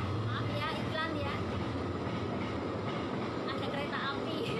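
A train passes close to a road, its broad rolling rumble steady and loud throughout with faint rhythmic clatter, while people talk over it.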